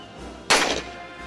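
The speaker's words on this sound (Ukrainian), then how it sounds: "гарматні постріли допомагають туристам поринути в атмосферу козацької доби" A cannon fires once at a Cossack-era tourist site in Ukraine, a single sharp loud blast that decays over a fraction of a second, with no talk.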